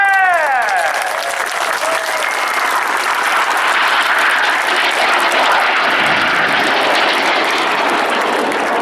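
Red Arrows Synchro Pair jets roar past at an air display, a loud continuous rushing jet noise building and sweeping through, with crowd noise underneath.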